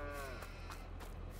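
A sheep in Farming Simulator 22 lets out a single short, quavering bleat at the start, over a constant low background hum, with no one speaking.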